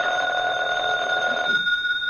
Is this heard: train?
no